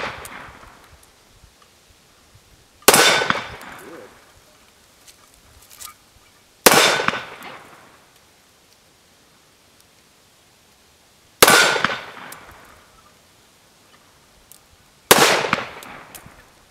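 Four loud, sharp pistol shots from a Victoria 4-inch 1911 at a shooting range, each a sudden close crack with a quick decaying tail, spaced several seconds apart with quiet between.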